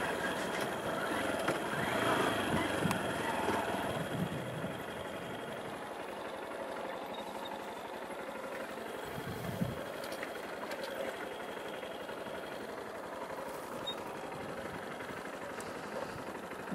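A Honda Bros 160 motorcycle idles outdoors on a dusty spot, its engine a low, even, continuous hum with a faint mechanical rattle, steady throughout with light background noise.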